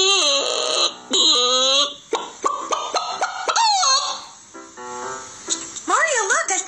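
A person imitates a loud chicken, squawking and clucking in bursts with rising and falling pitch, close and prominent, with brief pauses between calls.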